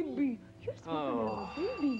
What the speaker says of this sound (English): That's the phone we're not going to answer.